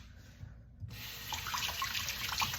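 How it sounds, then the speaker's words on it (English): A kitchen tap runs water over a hand while making sourdough, a quiet trickle that jumps to a louder steady splashing stream close by. "So go ahead and just cover your hand in some water"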